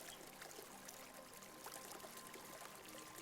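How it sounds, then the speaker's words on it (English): A mountain river flows steadily outdoors, giving a continuous, even rushing and trickling wash. It is faint and distant and has no talk over it. "shift the awareness from the breath to the sound of the river, the flowing water"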